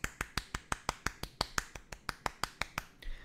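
A steady run of about sixteen light, quick claps in an even rhythm, crisp and close like a sarcastic golf clap, heard alone without talk.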